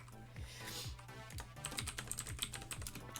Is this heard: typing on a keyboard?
yes